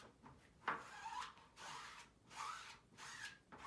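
A squeegee scrapes a pasty substance across a chalkboard in several slow, rubbing strokes with short pauses between passes, close and fairly quiet with no talking.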